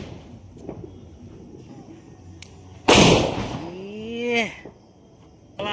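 A firecracker goes off with one sudden loud bang, followed by a whistling, falling tone and fading crackle, with faint voices in the background.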